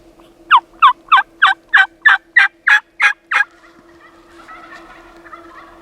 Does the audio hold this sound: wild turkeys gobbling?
yes